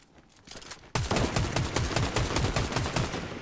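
A sudden burst of rapid automatic gunfire starts after a quiet moment and continues loud and steady, shot after shot in quick rhythm.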